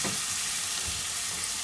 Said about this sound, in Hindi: और इसके अंदर डाल देंगे प्याज और इसको थोड़ा सा फ्राई करेंगे